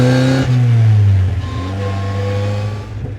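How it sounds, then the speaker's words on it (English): Engine of a 1955 Austin Healey 100S tribute on the overrun: deep throaty tone dropping as the throttle lifts, then a steady low burble with crackles heard loud and close from inside the car, no voices. "It's got a great burble on the overrun."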